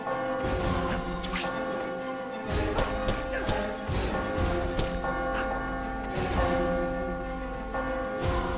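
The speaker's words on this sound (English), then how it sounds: "you need both bells ringing to really hurt him" Deep church bells in the video game Spider-Man: Friend or Foe ring out repeatedly during a boss fight, long sustained harmonic tones over a steady low rumble and clanging strikes, loud and close.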